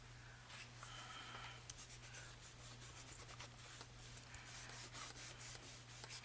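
Quiet, close rubbing across the front of a paper card, a steady soft scratchy friction with brief louder strokes and no voices.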